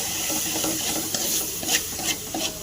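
Raw mango pieces are stirred with chili powder and fenugreek in an oiled pan, making a dense, continuous sizzle with scraping spoon strokes and light clinks against the metal.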